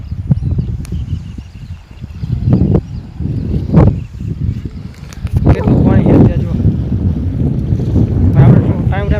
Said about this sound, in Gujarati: મસ્ત મજાનું વાતાવરણ ઠંડુ પવન આવે છે